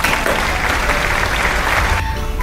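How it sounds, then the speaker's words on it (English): A group in a classroom activity gets a round of applause for winning a message relay, with steady, dense clapping from many hands at constant volume that thins just before the end. "Give them a round of applause"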